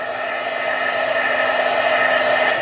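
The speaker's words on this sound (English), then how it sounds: "what we can do is take the heat tool and dry this up" A heat tool blows hot air over stamped canvas, a steady, close, continuous whooshing hum with a faint constant tone, no talking.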